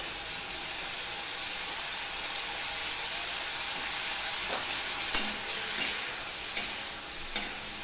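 Eggplant and small fish in a tangy curry sizzle steadily in a pan while a spoon gently stirs, with a few light scrapes and taps near the end and no voices.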